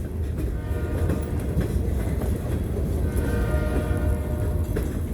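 An Indiana & Ohio Railroad local freight train rolls past at close range, loud steady rumble and clatter of freight cars with rhythmic wheel clicks and squeal, locomotive horn tones threading through, no talking.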